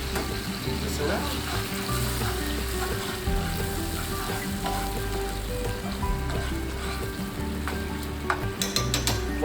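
Butter or batter sizzles and fries steadily in a pan during crepe making, a dense continuous crackle under light stirring movements, fairly close and even throughout with no voices.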